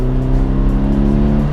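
A Ford Fiesta ST150 with a Miltech exhaust pulls hard on a country road, its engine droning loud and steady under acceleration, with a rich exhaust note and no talking.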